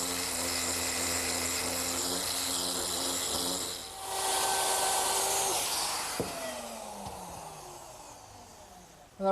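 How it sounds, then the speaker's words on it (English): Router fitted with a 1/4 inch radius roundover bit easing the edges of a kitchen work table, a steady high whine running several seconds, dipping briefly, then spinning down and fading out at the end. "That was a 1/4 inch radius rounding over bit I used to ease the edges"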